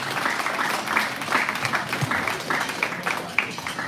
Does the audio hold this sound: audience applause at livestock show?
yes